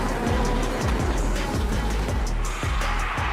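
A professional race car drifts on an airport runway, engine roaring loudly and steadily with repeated tire squeal and sliding bursts throughout.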